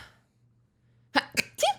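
A person sneezes three times in quick succession after a short quiet pause, each sneeze close and loud with a sharp burst, the last one slightly drawn out.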